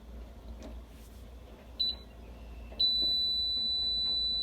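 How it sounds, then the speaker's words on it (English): A kitchen timer going off during orange marmalade making, giving a short high beep and then a sustained shrill electronic tone over quiet kitchen background noise. "get ready for my timer to go off"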